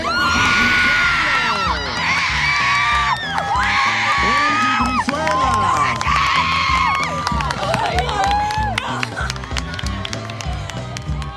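A homecoming crowd erupts in loud cheering and high-pitched screaming for the announced winners, with whoops and shouts sustained throughout at close, dense volume.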